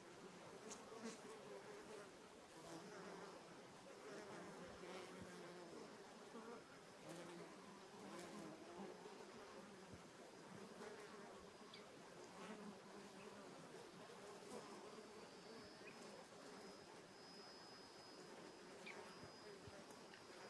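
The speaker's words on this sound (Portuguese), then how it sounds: "ouvirem o som das abelhas trabalhando" Bees buzzing around strongly scented flowering plants, a continuous soft droning hum of many insects at moderate distance, steady and quiet throughout with occasional closer fly-bys.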